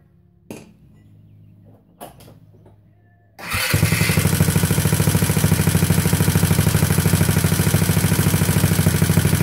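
A small engine fitted with a newly installed O2 sensor, a 35 and a 110 setup, starts after a few faint clicks and then runs with a loud, fast, steady putter, with no talk.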